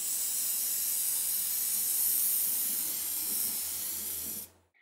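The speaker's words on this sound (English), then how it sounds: "it is spray painted black." An aerosol spray can paints a cut frame black, giving a steady close hiss for several seconds before cutting off abruptly at the end.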